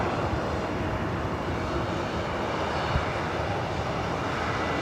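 An Airbus A320 airliner at LAX, about 25 years old and originally delivered to Northwest Airlines, produces a steady, broad engine roar that holds at an even, fairly loud level throughout, with no voices.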